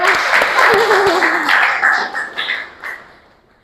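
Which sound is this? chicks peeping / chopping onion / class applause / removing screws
class applause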